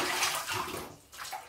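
Water runs steadily from a tap while someone rinses after a shave, a close, continuous wash that dips briefly near the end before picking up again.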